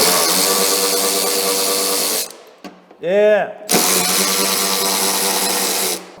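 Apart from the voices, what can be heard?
electric power tool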